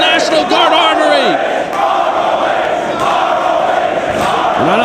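A packed Boston-area wrestling crowd at a National Guard Armory in Braintree, Massachusetts roars and cheers steadily, with shouts and whoops rising above the loud, continuous din throughout.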